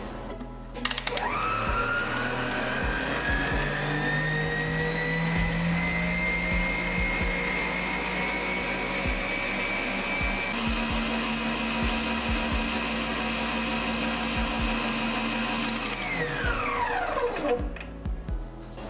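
Electric hand mixer beating Galaxy chocolate brownie batter on high speed, a steady loud motor whine with rising pitch that runs continuously for about sixteen seconds before winding down, with no talking.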